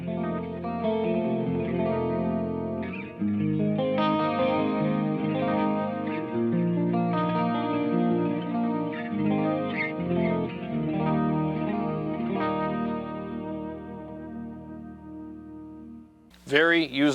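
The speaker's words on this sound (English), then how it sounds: "Let me add some chorus to it" Clean-channel electric guitar through an EVH Stealth LBX amp with chorus, strumming shimmering sustained chords and arpeggios for about sixteen seconds, close and steady with no talking, then a brief abrupt noise at the end.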